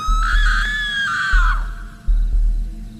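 A loud, close human scream rises sharply and then trails off in pitch, followed by dull low thuds, making a horror-style sound effect.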